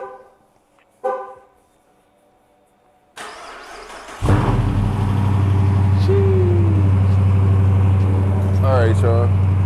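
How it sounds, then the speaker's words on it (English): A Dodge Challenger R/T started remotely from cold: a brief horn-like chirp, then a sudden loud engine catch settling into a steady deep idle, with a voice exclaiming briefly near the end. "Here go a cold start because I did get a remote cold start done"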